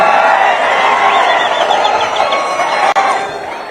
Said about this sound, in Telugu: కనీసం 40 సార్లు గట్టిగా చప్పట్లు కొట్టమని మిమ్మల్ని అందరికీ విజ్ఞప్తి చేస్తున్నా